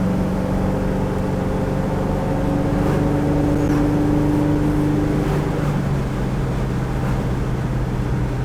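A 1969 Ford Mustang Mach 1 with a built 351 cubic-inch engine and coilovers cruising at about 60 mph, heard from inside as a steady, loud, low engine drone with held humming tones and no talking.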